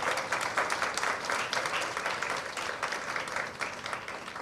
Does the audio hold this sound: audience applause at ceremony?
yes